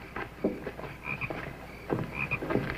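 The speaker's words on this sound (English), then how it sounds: "The frogs are in the barn." Frogs croak in a barn, rhythmic clustered calls at moderate distance with a few higher chirps, steady over the short stretch with no talking.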